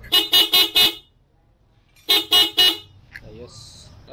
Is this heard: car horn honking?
yes